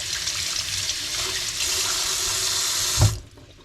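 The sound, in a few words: rinsing fish under running tap water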